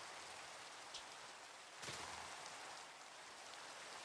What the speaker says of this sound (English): just listen to the soft, steady rhythm of the rain